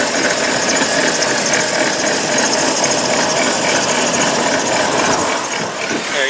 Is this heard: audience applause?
no